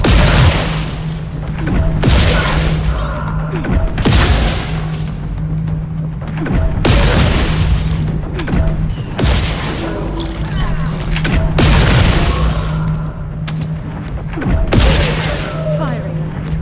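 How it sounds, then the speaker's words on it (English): An electron weapon in The First Descendant firing repeatedly, with heavy booming blasts every couple of seconds over a constant low hum and bursts of combat noise, while a voice speaks between shots. "Firing electron"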